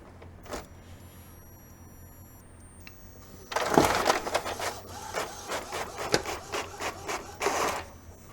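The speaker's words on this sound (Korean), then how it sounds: "테스트 페이지 인쇄를 클릭합니다" An Epson M105 inkjet printer printing a test page: after a quiet start, a loud burst of mechanical whirring and rhythmic print-head clatter runs steadily to the end, with no voices.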